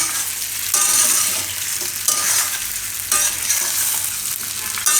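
Muthiya dhokla mixture made from leftover rotli gets stirred in a pan, giving a steady scraping, sizzling sound with a few sharper spoon knocks, close and moderately loud with no talk.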